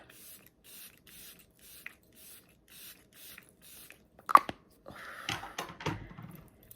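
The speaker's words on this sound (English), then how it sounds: "I'm going to use my Sephora makeup setting spray" A series of short, evenly spaced hissing sprays from a Sephora makeup setting spray pump bottle, followed by a few soft taps and rustles.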